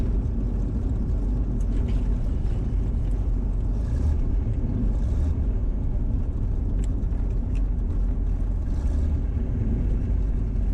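A 1963 Chevrolet Corvette Split Window Coupe engine idles while driving, with a continuous low rumble and wind buffeting, steady and close, with no one talking.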